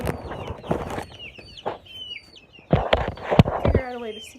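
Farm chickens clucking and squawking nearby in a warm Illinois summer, short irregular calls in bursts with a person talking in between.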